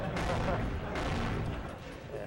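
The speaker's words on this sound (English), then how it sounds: "These rockets are very, very loud." Loud rockets explode in Spyro: Year of the Dragon, a continuous roaring, crackling barrage of blasts with swells in loudness, heavy and close throughout.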